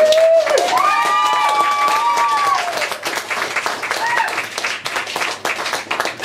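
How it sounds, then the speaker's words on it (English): An audience at a spoken-word poetry night in Bournemouth claps for a first-time performer, opening with a high whooping cheer over the applause, then dense clapping that thins and becomes more scattered. "Give her a big clap."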